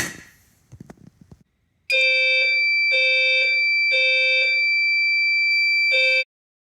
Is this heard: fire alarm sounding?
yes